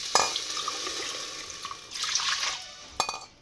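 Cold water splashes and trickles into a pot of rice, a steady pour with a couple of sharper clinks at the start and near the end.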